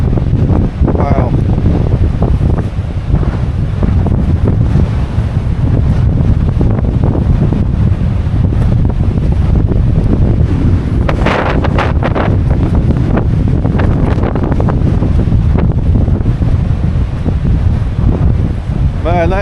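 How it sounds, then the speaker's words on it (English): Rough ocean surf churns along the Irish coast under loud, constant wind buffeting the microphone, with a dense low roar throughout and brief indistinct voices. "Man, that is some crazy ocean."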